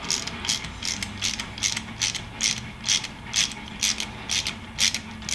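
A ratchet snugs fog light fasteners on a Triumph Scrambler 1200 XE, its pawl clicking in about a dozen quick, evenly spaced bursts over a low background hum, close and clear.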